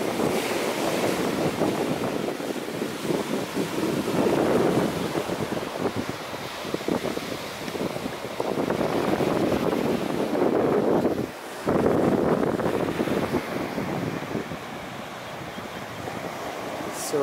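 Ocean surf rolls in steadily on the shore of Delft Island near Jaffna, Sri Lanka, with wind buffeting the microphone throughout, waves swelling and breaking in repeated surges with a brief lull midway.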